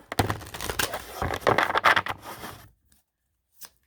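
Tarot cards are shuffled close by, a rapid run of crisp riffling and flapping for a couple of seconds, then silence with a faint click.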